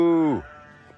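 A steer on a farm gives a loud, close moo that falls away within half a second, leaving only faint background sound.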